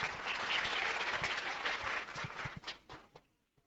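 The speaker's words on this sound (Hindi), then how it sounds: "तालियां" A class of students applauding, a dense burst of many small hands clapping that tapers off into a few scattered, uneven claps over a few seconds.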